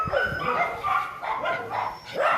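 A dog barks in a string of sharp, repeated barks, fairly close and loud, with some whimpering yips mixed in.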